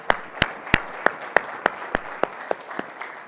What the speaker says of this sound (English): Can we give the panel a huge round of applause?